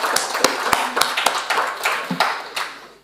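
Audience at an international art critics' congress clapping: sparse, distinct hand claps in an uneven rhythm, a smallish group heard fairly close in a room rather than a full roar.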